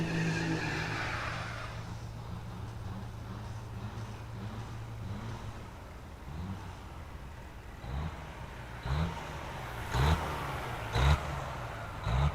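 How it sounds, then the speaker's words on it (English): A 1970 Peterbilt 289 truck does a big burnout at a diesel drag racing event, tires squealing and skidding over a loud rumbling engine, with rhythmic bursts of revving that grow stronger and more clipped toward the end. "Big, fat, gnarly, nasty burnouts."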